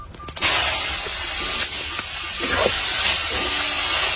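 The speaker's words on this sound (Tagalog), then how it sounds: "pwede din pala itong prituhin itong dahon ng kamote" Sweet potato leaves frying in oil outdoors in the mountains give a steady, loud broadband hiss across the whole stretch, with a few sharper crackles near the start and small bursts through the middle.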